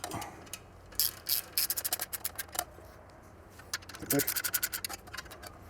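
Clamps on Triumph Scrambler shotgun exhaust heat shields are tightened, making quick bursts of close, scratchy ratcheting clicks in two main runs separated by a short pause.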